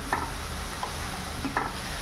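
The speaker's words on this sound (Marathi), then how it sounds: "आता तुम्ही बघताय मी पूर्ण कॅप्सिकम घालून गेले आणि आता मी हे हाय फ्लेमवरच कुक करणार आहे." Capsicum is stir-fried over a high flame, a quiet steady sizzle broken by a few light clinks and scrapes of the spatula against the pan.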